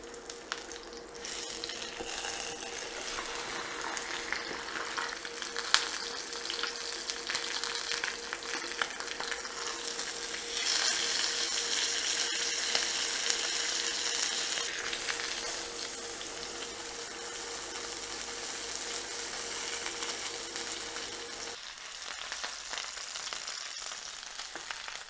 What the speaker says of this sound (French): On va faire revenir un petit peu la viande.